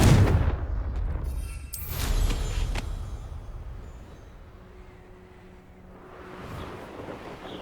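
A Confringo blasting spell from the Hogwarts Legacy video game fires off in a heavy booming explosion, with a loud rumbling burst that trails into a fading low roar, no talking.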